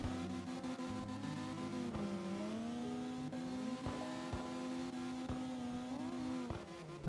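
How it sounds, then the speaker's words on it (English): A fast pink race car in a racing video game revs and accelerates through gear changes, a buzzy engine note climbing and dropping repeatedly with sharp shift breaks, steady and prominent with no talk. "This is a pretty fast car."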